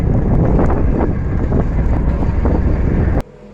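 A boat carries passengers across open water toward the temple on Nainativu island. Strong wind buffets the microphone over a rumbling hull and engine noise, which then cuts off abruptly near the end.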